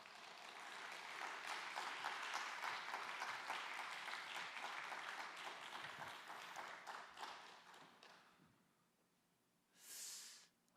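A church congregation at a Thursday worship service claps in sustained applause to welcome a pastor, dense and steady for about eight seconds before fading, followed by a brief burst of noise near the end.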